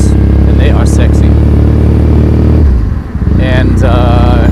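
A motorcycle's exhaust note sits close and loud during a ride through Tokyo streets, a steady low engine drone that dips and then revs back up, with a rider talking over it throughout.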